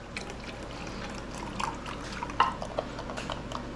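Chicken stock poured from a measuring container into an empty bean can in a home kitchen, a short faint trickle with a few small splashes and drips.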